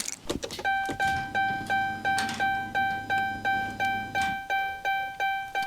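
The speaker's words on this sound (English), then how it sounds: "Let's see if we can hear the fuel pump." An AWD Hemi Charger's fuel pump primes with a low electric whir, accompanied by a steady series of repeating chimes from the dashboard, close up with no voices.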